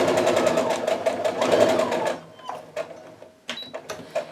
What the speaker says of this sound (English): I'm going to sew my scant 1/4 inch seam all the way down